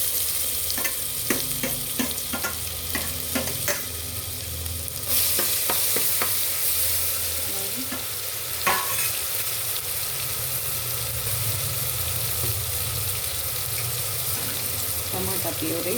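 Masala paste with tomato and onion puree frying in a pan for a goat head curry, a steady close sizzle with repeated scraping stirs and occasional clinks throughout, no voices.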